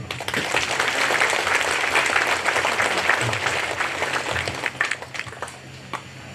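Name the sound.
congregation applauding at church jubilee mass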